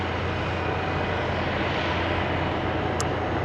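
An airplane roars steadily at Amsterdam Schiphol Airport during a departure peak, a loud, constant engine rumble that fills the scene without a break.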